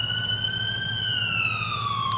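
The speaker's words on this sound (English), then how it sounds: "There's the ambulance!" A video game ambulance siren wails loudly and steadily, its rising-and-falling tone sweeping across the whole stretch over a constant low engine-like drone.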